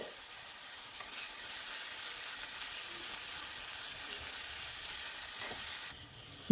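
Chopped onions and boiled potato sauté in hot oil in a pan, with a steady, even sizzle throughout and a brief knock near the end.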